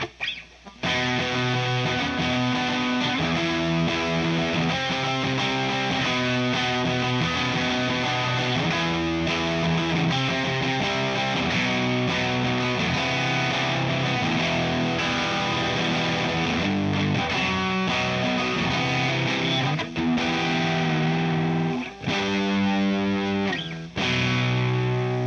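Electric guitar played through a Boss Power Driver distortion pedal, thick fuzzy chords ringing loud and continuous with brief breaks near the end, no voices.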